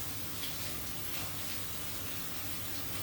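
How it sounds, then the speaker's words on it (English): Tap water runs continuously into a sink while a hand is rinsed under it, a soft, steady splashing hiss at low volume with no voices. "Hang on, let me rinse my hand."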